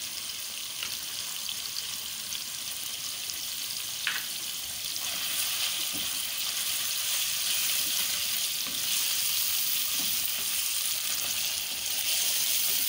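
A steady, hissing sizzle of ginger garlic paste frying in a hot pan for mutton karahi, continuous and close, growing a little louder partway through, with faint clinks of stirring.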